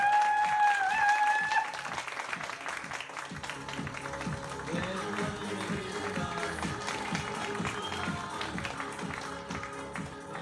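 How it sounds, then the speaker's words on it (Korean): An audience claps loudly to welcome a lecturer at a business seminar, the dense applause running steadily throughout after a brief musical tone at the start. "여러분 큰 박수 부탁드립니다"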